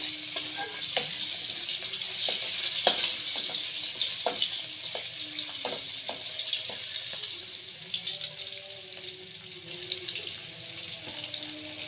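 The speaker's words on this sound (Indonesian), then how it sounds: "Kita goreng sampai layu." Shallots fry in oil until wilted, producing a continuous close sizzle with frequent sharp pops and crackles, slightly fading toward the end, with no voices.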